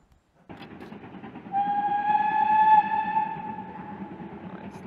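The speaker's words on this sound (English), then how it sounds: "Big release of steam, I think." A steam train gives a loud release of steam, a strong harmonic whistle-like hiss rising over the rumble of the locomotive and carriages, swelling midway and then easing off, with no talking.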